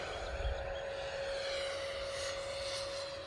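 A Freewing Eurofighter Typhoon RC jet, upgraded with an FMS 90mm 1900kv electric ducted fan, screams at full throttle on takeoff, a steady loud high-pitched whine with a constant tone over rumbling wind and ground noise, with no one speaking.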